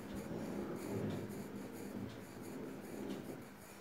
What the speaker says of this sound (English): So I am going to write square.